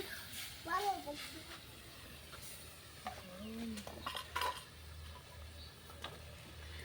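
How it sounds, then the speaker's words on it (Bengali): Tomato chutney being stirred and mixed in a pan: soft scraping and clinking of a spoon against the pan with faint sizzling underneath, while someone talks over it throughout. "এখন এটা আমি ভালো করে মিশিয়ে নিব।"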